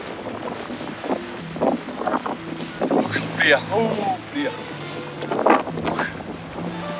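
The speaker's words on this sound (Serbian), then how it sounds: "Malo kad vetar dune, onda je hladno." Wind blowing outdoors on a beach in Montenegro, a rushing gusty noise buffeting the microphone while someone talks over it and water moves nearby.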